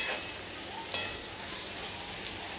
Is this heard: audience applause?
no